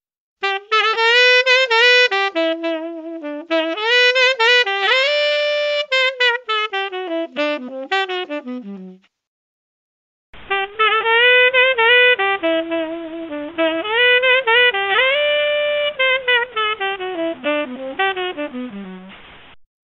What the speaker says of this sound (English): This can introduce quantization errors, which sound like this.